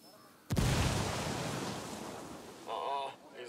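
A frag grenade goes off in the video game Ghost Recon, one heavy boom that rolls into a long roaring rumble and slowly fades, followed by a brief tonal game sound.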